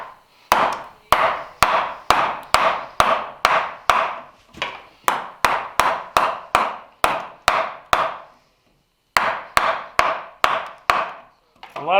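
A mallet strikes a chisel cutting a mortise in a timber frame beam, sharp wooden knocks in steady repeated bursts of roughly two per second, with a pause before the blows resume.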